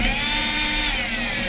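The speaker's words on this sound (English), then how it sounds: "Put those two Phillips head screws back in." A power screwdriver drives Phillips head screws into an LG electric dryer with a loud, steady whirring whine held for the whole brief moment, close up and alone.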